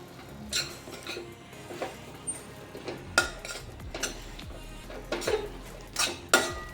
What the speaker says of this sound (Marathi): सोयाबीन आपण जे बारीक करून घेतलं आहे ते छान मिक्स करून घेऊया